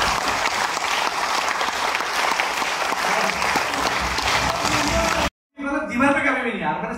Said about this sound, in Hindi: मैं चाहूंगा बहुत जोरदार तालियां आप मेरे पेरेंट्स के लिए।